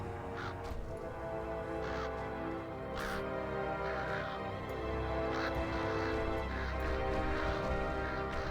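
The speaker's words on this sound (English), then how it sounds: "Are these birds attacking us? They are attacking us." Hostile birds caw repeatedly while attacking in World of Warcraft's Drustvar zone, harsh crow-like calls recurring over a dense, steady game background of ambience and music.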